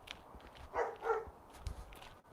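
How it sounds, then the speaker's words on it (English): A big dog barking somewhere in the distance outdoors, two faint muffled woofs heard while walking, with light footsteps around them. "There's a big dog somewhere making his presence known."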